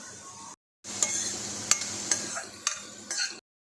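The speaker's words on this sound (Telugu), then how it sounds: "అయ్యేటప్పుడు జీడిపప్పు కూడా యాడ్ చేసుకొని ఫ్రై చేసుకుందాం" Green chillies and cashews fry in a pan with a soft sizzle, broken by sharp clinks and scrapes of a stirring utensil against metal, with a brief silent gap near the start.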